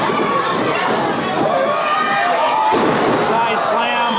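A wrestler's side slam onto the ring at a live wrestling event: a sharp impact thud lands late, amid crowd noise and a commentator talking over it.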